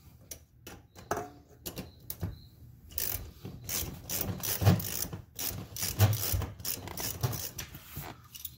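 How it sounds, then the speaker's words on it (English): Ratchet clicking while loosening nuts inside the interior of a Nissan 300ZX during dash and seat removal, a close, irregular series of rapid clicks and ratcheting bursts with metallic rubbing, no talking. "ratchet"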